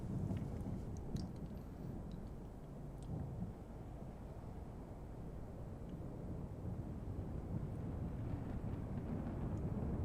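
A humid thunderstorm weather preset in Microsoft Flight Simulator 2020 brings a steady low rumble of rain and distant thunder, with scattered faint crackles on top and no voices.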